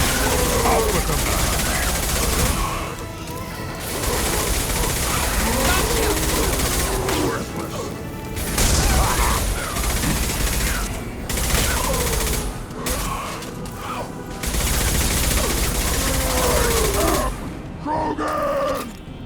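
Dense gunfire in a Mass Effect 2 battle, sustained rapid volleys with brief gaps, loud and chaotic, mixed with booms and shouted voices over the fighting.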